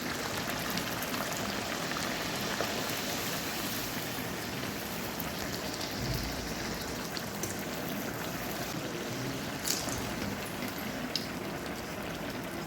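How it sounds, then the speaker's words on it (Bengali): Luchi, puffed Bengali flatbreads, frying in hot oil in a pan on a gas stove, giving a steady dense sizzle and bubbling that runs evenly throughout, close and moderately loud with no talk. "আর এখানে গ্যাসটা জ্বেলে দিয়েছি লুচিগুলো ভাজার জন্য।"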